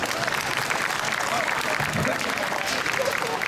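A room full of people applauding and cheering at a high school culinary arts closing ceremony, with steady clapping and voices calling out over it for the whole stretch.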